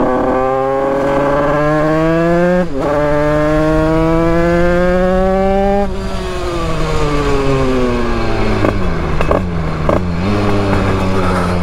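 A 2Fast 100cc motorcycle engine rated at 35 hp revs hard through rising pitch sweeps, dropping briefly between gears before climbing again, loud and close throughout.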